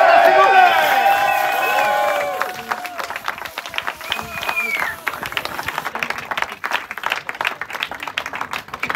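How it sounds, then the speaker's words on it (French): A crowd applauds at a sailing race podium ceremony for the Ocean Fifty class, with steady, fairly close clapping and some cheering, while an announcer's amplified voice runs over the start. "Applaudissements s'il vous plaît."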